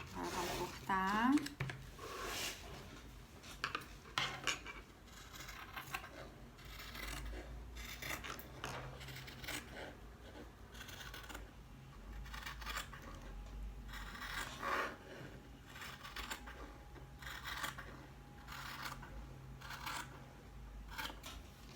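Scissors cut through fabric along a traced pattern line, giving a series of close, soft rasping snips and rubbing sounds, while someone speaks quietly at moments.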